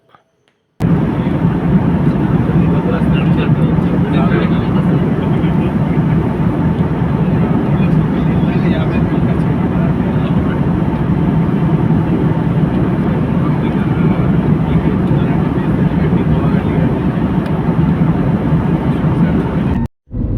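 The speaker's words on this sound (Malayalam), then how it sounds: "ഇത് ഡൽഹി വിമാനത്താവളത്തിലേക്ക് വിമാനം താഴ്ന്നു വരുന്നതിൻ്റെ ദൃശ്യമാണ്." A loud, steady roar of an airplane engine as it descends toward Delhi airport fills the whole stretch, with a constant low rumble and no breaks.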